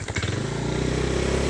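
A motorcycle engine idles and pulls close by as the bike rides into a village in barangay Coral, with a steady, throbbing low rumble and a brief clattering rev at the start.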